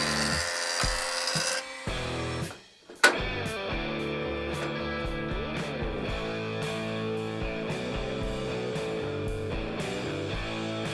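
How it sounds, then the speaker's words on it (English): Wood boards pass through a jointer in a woodworking shop. A steady whirring cutter drone runs through most of the clip, with a brief drop near the start before it resumes. "let's go ahead and run through the joiner"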